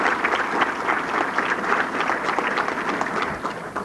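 A hall of fame induction audience claps in a dense, continuous patter for several seconds, with no talking over it.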